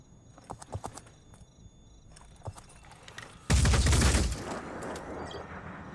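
Gunfire in the strategy video game Phoenix Point: a few scattered sharp shots, then a loud sustained burst of rapid fire lasting about a second before fading to a rumbling tail.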